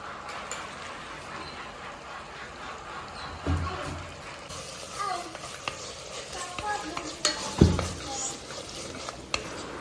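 Pulao masala sautés in a pan for a coconut-milk chicken pulao, a quiet steady sizzle with occasional stirring scrapes and a couple of soft knocks.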